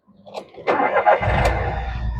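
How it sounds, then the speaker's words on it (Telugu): A 2015 Volkswagen Polo Highline petrol car starts on a single turn of the key: a short clatter of the starter, then the engine catches and settles into a steady, close idle rumble. "సింగిల్ సెల్ఫ్లో బండి స్టార్ట్ అవుతుంది."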